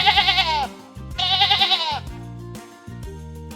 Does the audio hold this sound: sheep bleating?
yes